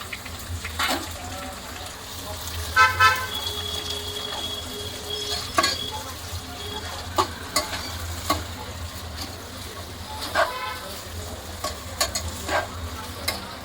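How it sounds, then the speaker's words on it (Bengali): Chopped onion, tomato and green chilli fry in hot mustard oil with a soft continuous sizzle, broken by repeated sharp clinks and scrapes of a spoon stirring against the pan. "দেখ গরম হয়ে গেছে, কুচিয়ে রাখা পেঁয়াজ, টমেটো আর কাঁচা লঙ্কাটা দিয়ে দিলাম।"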